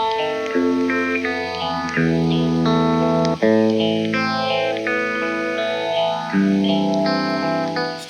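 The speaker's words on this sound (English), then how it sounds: "Still very phasey at that minimum level." An electric guitar runs through a Foxx phaser pedal, its held chords and notes swept by a slow, deep whooshing phase that rises and falls, loud and close with no talking.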